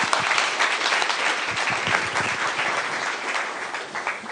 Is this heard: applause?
yes